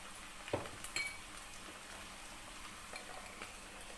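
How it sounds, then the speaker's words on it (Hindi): A tablespoon of garlic paste goes into a hot cooking pan during chicken daleem preparation, giving a soft, steady sizzle with a few light clinks of a spoon against the pan early on, fairly quiet and without talk. "वन टेबल स्पून मैं लहसुन का पेस्ट डाल रही हूँ"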